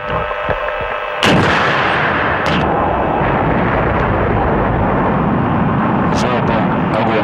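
A heavy artillery blast booms suddenly after a moment of quieter noise, followed by a long rolling roar and a few sharper cracks, at a military firing range with thermobaric munitions.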